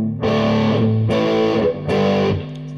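Three sustained, heavily distorted electric guitar chords ring out in turn through a Peavey Bandit amp and distortion pedal, each held about a second with brief gaps, loud and close.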